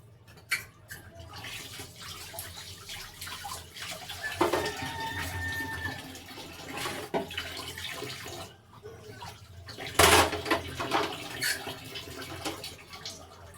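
Water runs and splashes as a freshly cleaned fish is rinsed, faint and intermittent, with a brief louder gush near the end and no voices.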